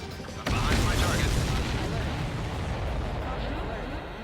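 In the jet combat game Ace Combat 7, a loud explosion erupts suddenly and then rolls on as a dense, rumbling roar that slowly fades, with voices talking over it.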